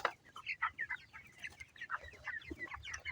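Broiler chickens about four weeks old cluck and chatter on a poultry farm, a busy overlapping flock of short calls close by at moderate volume, with no talking.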